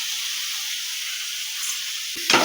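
Prawn gravy fries in a pan over a low flame, giving a steady hiss and sizzle, with a brief louder clatter of stirring near the end.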